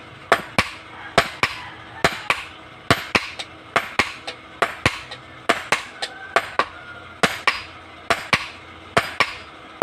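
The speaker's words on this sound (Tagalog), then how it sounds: "ipapakita ko sa inyo paano pitpitin para maging bareta" At a blacksmith's forge, a sledgehammer pounds hot metal into a bar, sharp ringing strikes landing in quick pairs and triplets at a steady working pace, close and loud.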